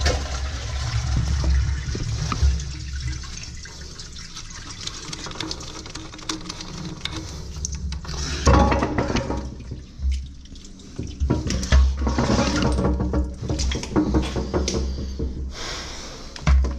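A toilet is flushed while a blocked drain is being repaired, releasing a rushing, gurgling surge of water that ebbs and swells with a few sharp knocks, close by and with no talking.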